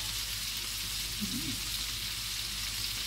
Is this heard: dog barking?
no